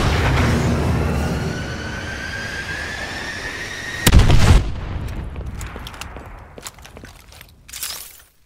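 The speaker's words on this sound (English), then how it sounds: "Friendly missile strikes inbound." Missile strikes in Call of Duty: Advanced Warfare hit in a loud, sharp explosive burst midway, with a second smaller blast near the end, over a droning battlefield background with electronic tones.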